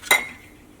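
A single sharp metallic clink as a large spoon tips wheat flour into a mixer grinder jar, close and fading quickly, with no talk.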